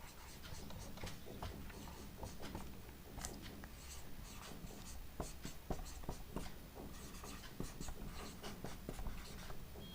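Chalk or marker writing on a board during a chemistry lesson, steady scratchy strokes and taps that run continuously at moderate volume with no talk.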